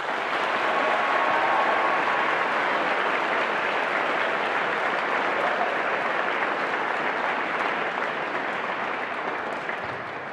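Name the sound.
school assembly applause for veterans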